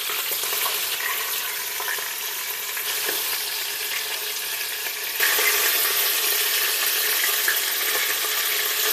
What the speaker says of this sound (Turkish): İlk önce bir tarafını mühürleyeceğiz ya da pişireceğiz.